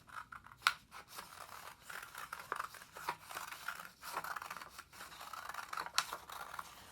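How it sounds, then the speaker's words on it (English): Scissors cut a second seaweed shape out of paper with repeated close, crisp snips. The cuts come in an uneven rhythm, alone and fairly quiet. "And now I'll cut out the second seaweed shape."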